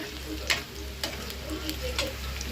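Onions frying in a pan for a beetroot fry, a low steady sizzle with occasional sharp ticks and spatula taps, close and moderately quiet, with no voices.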